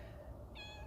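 A cat gives a short, faint meow indoors, partly masked by a steady low hum.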